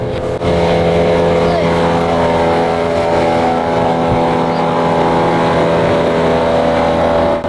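A motorboat engine drones steadily and loudly throughout, a constant hum with faint variation as it passes.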